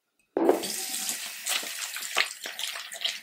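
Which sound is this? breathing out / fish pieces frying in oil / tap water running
tap water running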